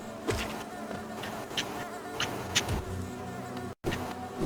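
Bees buzz steadily in Hollow Knight, a close, continuous droning hum with occasional soft thuds and clicks of game action, no talk.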